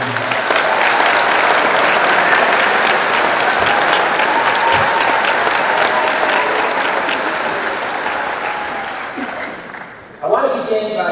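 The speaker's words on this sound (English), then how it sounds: "Let's give them a round of applause for doing that." Sustained applause from a large audience at a high school commencement ceremony for the class of 2024, a dense steady roar of clapping hands that fades slightly toward the end.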